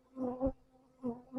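Honeybees buzz inside a long hive, a close, steady hum that swells and fades in short waves.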